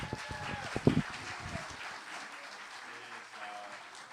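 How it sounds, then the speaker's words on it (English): Audience at an authors' association event applauds in a room, a short burst of clapping with a few louder claps near the start that fades out within two seconds, leaving quiet room tone. "Give them a round of applause."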